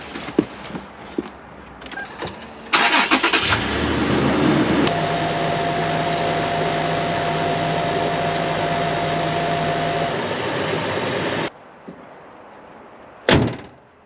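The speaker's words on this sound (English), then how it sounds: "whenever I run my compressor, I always run the engine as well, so I don't flatten the battery" A Toyota Prado's engine cranks and catches, then settles into a steady loud idle that runs for several seconds before cutting off, with a few clunks and knocks before and after.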